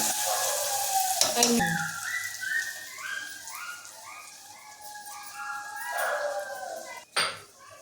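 Ingredients stirred in a pan of hot oil, a soft steady sizzle under clinks of a utensil against the pot, with a faint warbling whistle-like tone running through and a sharp scrape near the end.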